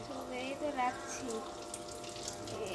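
A small 6-volt motor pump dipped in water, running off an eliminator, gives a steady, continuous watery gush and trickle throughout, fairly close, with faint voices in the background.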